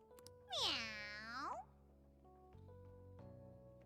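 A cartoonish cat meows once in a long, bright, rising-then-falling cry inside the Persona 5 Strikers video game, loud and close, with game music and ambience continuing underneath.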